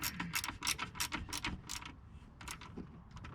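Ratchet wrench tightening a bolt on a 2005 Cadillac CTS during radiator and fan replacement, a quick run of sharp metallic clicks in bursts, close and clear, then slower clicks toward the end.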